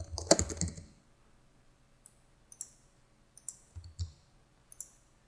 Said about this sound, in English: I can type the equation for the deflection in the beam.